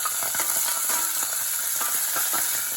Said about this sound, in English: I'm going to go ahead and add my peppers. And let that fry up for about a minute.